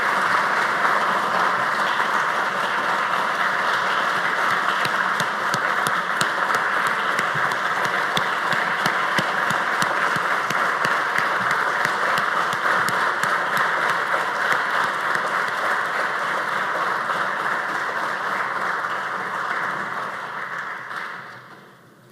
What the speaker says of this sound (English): Let us join in giving a resounding round of applause to this most outstanding son of the soil of Trinidad and Tobago.